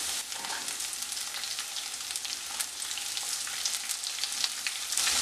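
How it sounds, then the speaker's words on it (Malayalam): Sliced onions sautéing in oil make a soft, continuous sizzle and crackle at low volume, with faint occasional stirring. "ഇനി നമുക്കിവിടെ കട്ട് ചെയ്ത് വെച്ചിരിക്കുന്ന സവോള ചേർത്ത് വഴറ്റി കൊടുക്കാം."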